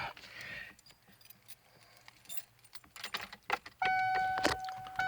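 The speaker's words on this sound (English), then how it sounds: "if I can find the keys" Car keys inside a 1993 Ford pickup jingle and clink in short, close bursts amid handling noises, ending with a brief electronic chime.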